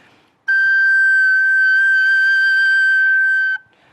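A sustained high whistle-like recorder tone imitating birdsong, held for about three seconds, wavering gently in pitch with a steady vibrato, clear and close, alone.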